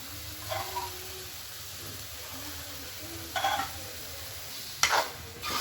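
Vegetables tipped into cooked masala in a pan and stirred, giving a soft, steady sizzle with a few brief scraping stirs standing out.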